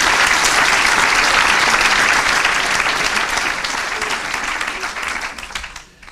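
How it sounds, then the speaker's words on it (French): A lecture-hall audience claps loudly and steadily for several seconds at a tribute ceremony, then the applause thins and fades out near the end. "Vous pouvez l'applaudir parce que c'est un sacré tour de force."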